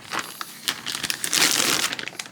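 Close, irregular crinkling and rustling of thin plastic wrapping from an unboxed camera lens, a series of crackly bursts building to a denser crumple midway.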